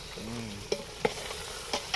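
Chicken curry stirred in a hot pan over a high flame, a steady low sizzle broken by a few sharp spoon scrapes against the metal, close by with no talking.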